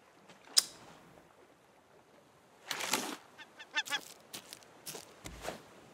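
A bird in the survival game Raft squawks and honks in a goose-like way, one sharp call followed by a cluster of rapid honking bursts, moderately loud with quiet gaps between.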